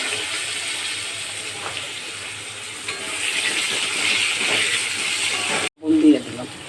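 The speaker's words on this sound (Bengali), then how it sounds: "আলুগুলো এবার আমি ভেজে নেব।" Potatoes frying in a pan with a little salt, a steady broad sizzle and hiss running throughout with occasional stirring clinks, briefly cut near the end by a short louder burst.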